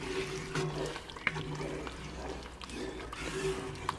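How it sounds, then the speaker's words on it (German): Beef goulash simmers gently in a Dutch oven, giving a soft, steady bubbling with small irregular pops throughout, fairly close and continuous with no talk over it. "Blubbert ganz leicht, so wie es sein sollte."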